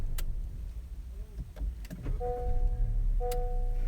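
A 2018 Honda Accord EX-L is switched on and off, giving soft clicks followed by a clear two-tone electronic chime that sounds twice over a quiet cabin hum.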